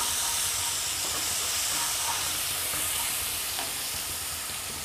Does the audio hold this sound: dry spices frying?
yes